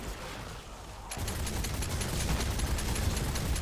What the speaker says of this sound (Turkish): Her yer patlıyor görüyorsunuz